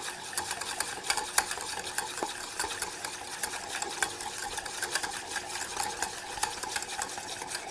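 Coarse mustard being stirred with olive oil into a thick mayonnaise-like emulsion, a rapid continuous scraping and clicking of a utensil against the bowl, close and steady, without talk.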